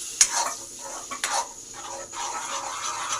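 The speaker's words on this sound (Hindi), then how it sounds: "अब कंटिन्यू चलाते रहो।" Food frying in a pan is stirred continuously, salt and ingredients mixed in, with a steady close sizzle broken by a few scraping stir strokes, no talking.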